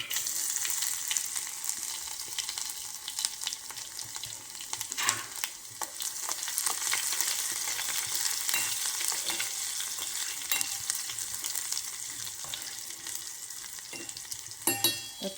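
Cumin and garlic sizzle in hot oil for a tempering for buttermilk kadhi, a bright continuous hiss with crackles and a few louder pops and stirring clatters near the end.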